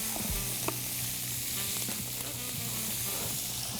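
Shrimp frying in butter in a pan gives off a steady, close sizzle and crackle, with a few sharper pops and light stirring sounds, and nobody speaks.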